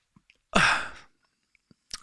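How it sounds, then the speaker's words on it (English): A single loud, sharp sneeze bursts out in a quiet indoor room, followed by a few faint small sounds and a brief softer exhale near the end. "A big sneeze there."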